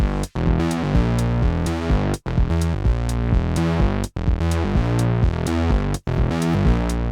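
A funk bass groove cycles four times, now with an extra note on the fourth completing the pattern, each loud loop separated by a short dropout.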